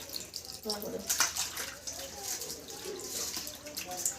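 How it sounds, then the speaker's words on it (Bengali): Cut cauliflower florets being washed in hot water, a continuous close splashing and trickling with small drips, while a person talks over it throughout. "ওই গরম জল দিয়ে ধুয়ে নেবো"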